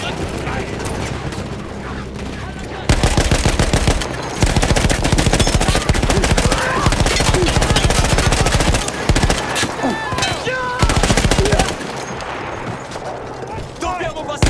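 A mounted machine gun in Battlefield 1 hammers out long, loud rapid-fire bursts broken by short pauses, close and dominant, with battlefield noise and voices underneath.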